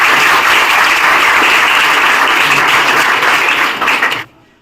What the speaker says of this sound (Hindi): हम चाहते हैं उनके लिए एक बार जोरदार तालियां